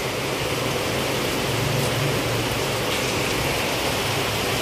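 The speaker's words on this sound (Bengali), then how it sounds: "এই দেখো কি জোরে বৃষ্টি পড়ছে" Heavy rain pours down steadily and loudly close by, a dense continuous hiss that never lets up, with no voices heard.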